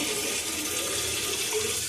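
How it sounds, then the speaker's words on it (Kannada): Water pours steadily into ground rice batter for neer dosa, a short continuous splashing flow with no talk. "ಸ್ವಲ್ಪ ನೀರು ಹಾಕ್ತೀನಿ ನೋಡಿ"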